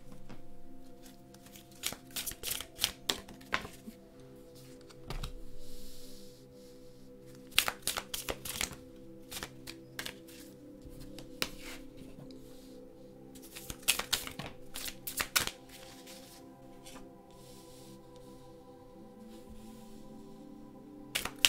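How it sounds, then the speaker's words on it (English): Tarot deck being shuffled by hand: repeated crisp riffling bursts and soft card slaps in irregular clusters, close and fairly quiet, with no speech. "I'm going to start shuffling the deck."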